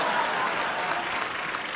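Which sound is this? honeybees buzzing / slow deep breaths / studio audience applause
studio audience applause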